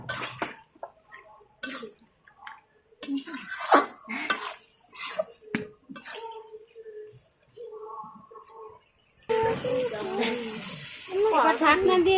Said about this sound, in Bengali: এবার এই মশলার সাথে মাংস খুব ভালোভাবে কষিয়ে নিব।